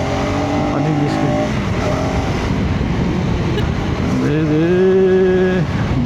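A 250cc motorcycle rides along, its engine drone steady and loud with a rising then falling pitch as it accelerates, wind noise mixed in, and a voice talking over it.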